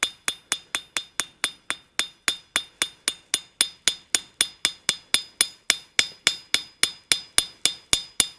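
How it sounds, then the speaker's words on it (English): A blacksmith hammers the outside edge of a simple iron latch on an anvil, a long steady series of sharp ringing blows, about four per second, each with a short metallic ring and nothing else in between. "And now I'm going to forge this outside edge."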